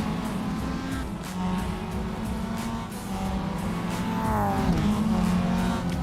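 Mazda Miata race cars on a mountain circuit in a sim racing game, engines droning and revving steadily, pitch dipping and climbing as the cars head downhill on an out lap.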